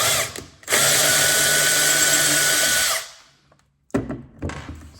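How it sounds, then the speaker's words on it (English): A power drill, used while swapping head units in a Markbass bass combo amp, whines loudly and steadily for a couple of seconds, stops, then gives a few short bursts nearby. "hold it very steady and put good pressure on the drill"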